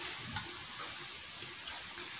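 Shrimp fry in a pan with a steady, close sizzling hiss and faint soft crackles and stirring throughout, with no voices.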